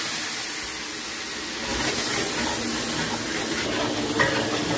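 Ginger-garlic water poured into biryani masala frying in a pot, Barrackpore Dada Boudi style: a steady close sizzle that swells louder partway through, with stirring scrapes and a light metallic clink near the end.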